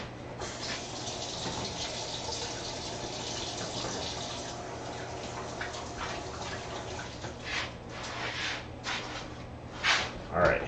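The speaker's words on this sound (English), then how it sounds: "I'm going to wash my hands" Hands being washed under a running kitchen tap: a steady rush of water for several seconds that then stops, followed by a few close clatters and handling noises.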